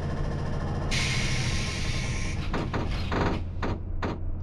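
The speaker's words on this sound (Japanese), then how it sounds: "2番線、ドアが閉まります。" Train doors sliding shut in Densha de GO! FINAL, a JR Chuo Line 115 series on the outbound Tachikawa–Takao run, heard as a steady hiss followed by a series of close, loud thuds and clunks.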